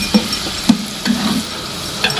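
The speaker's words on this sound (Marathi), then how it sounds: "बटाटा फ्राय व्हायला लागलाय." Potatoes fry in a pan for a mixed vegetable dish, a loud steady sizzle broken by regular scraping stirs of a utensil against the pan.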